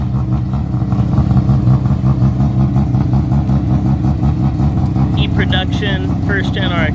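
A first-generation Mazda RX-7 E-production race car with a GSL-SE based rotary engine, downdraft carburetion and ram air, idling loudly and steadily nearby with a throbbing, uneven pulse; a voice speaks over it near the end.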